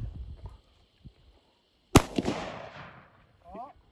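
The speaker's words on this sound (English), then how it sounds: "All right, let's start shooting." A single loud gunshot rings out outdoors, a sharp crack with a decaying echo, preceded by faint talk and rustling and followed by a brief bit of distant noise.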